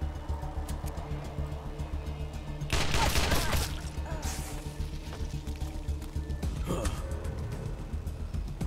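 Wasteland 2 video game shotgun fire: a sudden burst of loud blasts lasting about a second over a steady droning game backdrop, then a second, shorter blast a few seconds later.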